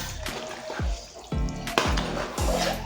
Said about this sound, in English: I'm just going to stir to incorporate everything